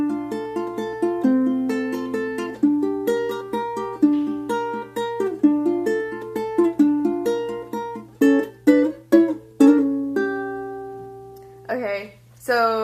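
Ukulele picks out the verse of a song with a top string strummed, a steady run of plucked melodic notes with a sustained low drone beneath, close and clear, ending in a final strum.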